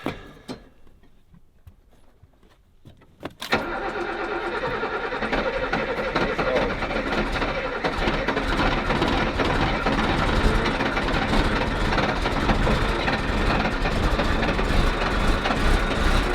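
A 37-year-old ex-military Unimog 4x4 camper's engine cranks briefly after near silence, then catches and settles into a loud, steady, rumbling idle close by, with no talking over it.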